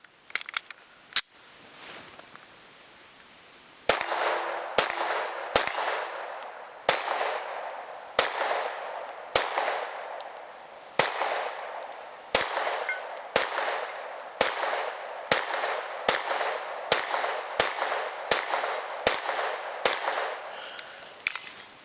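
A Sig Sauer M18 pistol fires a 17-round magazine outdoors, sharp single shots in a steady, fairly quick cadence, each crack followed by a brief echo, loud and near.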